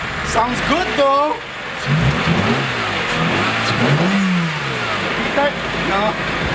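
A Mercedes-Benz E280 engine revs up and down a few times, loud and close, with a person speaking over the rising and falling whine.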